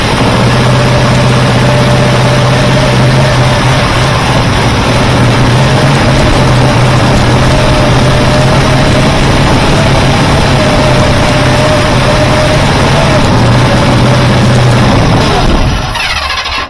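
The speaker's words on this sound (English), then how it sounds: "we got it started. So the motor does run" A 1974 Buick Riviera 455 V8 cranks and catches, then runs steadily with a loud, droning idle and a faint belt squeal before cutting off at the end, heard up close with no talking.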